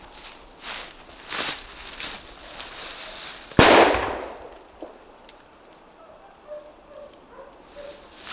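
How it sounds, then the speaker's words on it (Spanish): A bomb goes off with a sudden loud blast midway, trailing into a rumbling decay, after a few sharp crackling bursts, with a faint dog bark somewhere in the distance. "Esto de aquí es una bomba."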